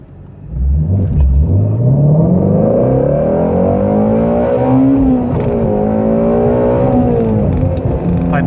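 Ford Mustang GT350 launching hard and accelerating on an open road, a loud close engine roar rising steeply through the revs with brief dips at gear changes and no talking.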